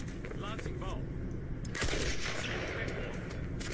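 Gunfire and a heavy blast from the Project IGI 2 video game, with dense shooting throughout and a loud burst near the middle, people talking over the action.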